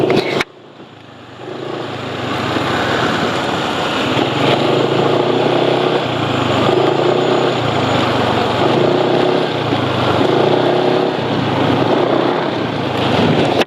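A Honda Win Formula 4T motorcycle engine idles roughly and continuously up close, a steady low chugging with a slight pulsing rhythm after a brief start.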